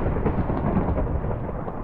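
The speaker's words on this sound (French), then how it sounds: "juste l'éclair vient de me faire peur, là" Thunder from a lightning strike in Minecraft rolls as a dull, low, continuous rumble, fairly loud and muffled, holding steady for a couple of seconds with no voices.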